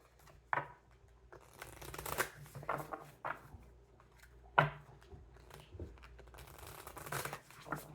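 A new, stiff tarot card deck is shuffled in repeated short riffling bursts, crisp and close, with brief pauses between each shuffle and no voices.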